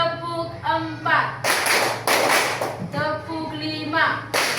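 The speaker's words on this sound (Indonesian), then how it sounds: "Tepuk lima 3 kali." An Indonesian school class claps hands together in time with the teacher's count, sharp bursts of massed clapping in three distinct groups between a woman's spoken prompts.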